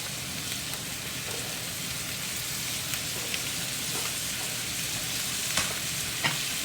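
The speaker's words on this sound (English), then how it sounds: "we've taken 1 onion and we've sliced it to small slices. We're going to stick that in the butter and we're going to let that cook" Sliced onion fries in butter in a pan for Salisbury steak, giving a steady, dense sizzle with faint crackles and a few sharper pops, heard up close with no talking.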